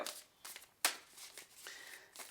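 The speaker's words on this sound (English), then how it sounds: "if you're wondering what deck I'm shuffling right now" Soft papery riffles and flicks of a deck of oracle cards being shuffled by hand, a few quick bursts with one sharper snap, quiet and close.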